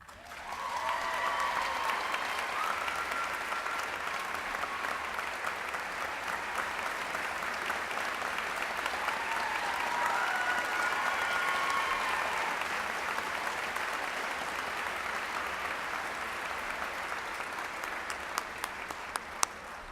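Sustained applause from a large commencement audience honoring graduates at the P.I. Reed School of Journalism ceremony at West Virginia University, a steady dense wash of many hands clapping at even loudness for the full stretch, with no talk over it.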